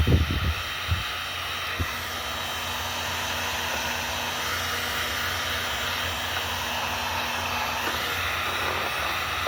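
A heat gun blows steadily on a wire splice during an aux cord extension job, a continuous broadband airy roar with a faint hum, preceded by a few handling knocks at the start.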